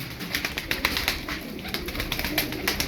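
Turkish tumbler pigeons, a fast-flying breed, coo softly amid a steady background hiss, with brief flutters and scattered bird noises throughout.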